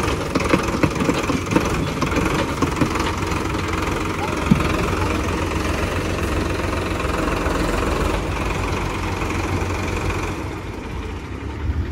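A Solis tractor engine runs steadily at idle for the whole stretch, a continuous low rumbling chug that fades slightly near the end.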